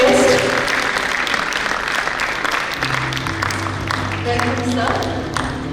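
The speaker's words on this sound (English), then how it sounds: "Can we have a round of applause for our distinguished guest?" An audience at the inaugural session of a national convention applauds a distinguished guest with sustained clapping, while a voice over a loudspeaker talks through it.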